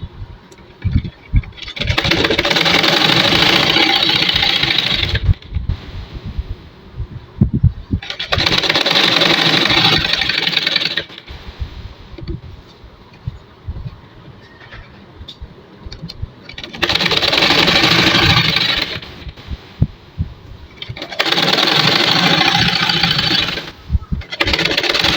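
A sewing machine stitches a kameez neckline with fused interfacing ironed onto the fabric, running in four loud, steady bursts of rapid needle whirring separated by quieter pauses with small clicks and handling noises.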